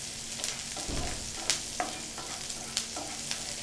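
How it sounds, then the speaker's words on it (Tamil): Onions frying in a pan while being stirred, a soft steady sizzle broken by a few scraping strokes and light clicks, fairly quiet and close, no one speaking. "வெங்காயம் வதக்கும்போது எப்போவுமே நம்ம இப்படி கிளறிட்டே தான் இருக்கணும்"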